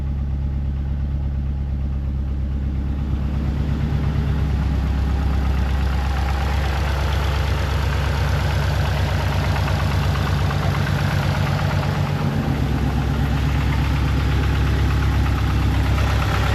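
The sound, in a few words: 2005 Subaru WRX STI engine idling while warming up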